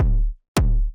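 Two heavy phonk kick drum hits distorted with two stacks of overdrive, gritty and saturated, with a sharp attack and a thick, buzzing low-end tail.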